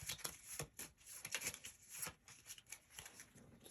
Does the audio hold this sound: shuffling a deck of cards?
yes